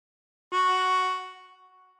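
A single bent draw note on hole 2 of a harmonica starts abruptly and holds as a steady, reedy tone with rich overtones, fading gradually over about a second and a half, alone with no talking.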